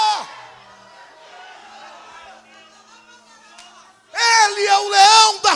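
A large church congregation bursts into loud shouting, whoops and cheering after a preacher's voice falls quiet, the roar near and sustained.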